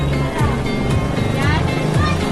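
A Bicol Isarog Skybus coach pulls in on a busy roadside, its low engine rumble and shifting drone loud and close, with passing traffic and people talking throughout.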